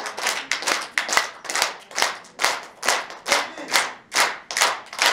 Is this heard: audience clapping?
yes